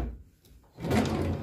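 A hotel room drawer slides and thuds shut with a soft wooden knock, followed by a broader rumbling scrape in a quiet room.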